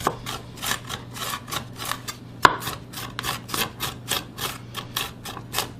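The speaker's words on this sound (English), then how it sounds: "our onions, I'm actually going to chop these a little finer. More minced. We'll use this rocking blade for them too." Onions being finely minced with a rocking blade on a cutting board for a rotisserie chicken salad: a steady run of quick, crisp chopping taps, close and fairly soft, with one sharper knock partway through and no talk.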